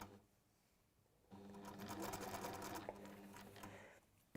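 A sewing machine stitches fabric over metal pins in a steady, close, continuous whir that starts after a quiet second and runs to the end, with no talking.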